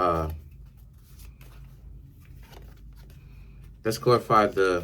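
Tarot cards are shuffled with soft, faint riffling and scattered light taps, set between a brief voice at the start and a person talking again near the end.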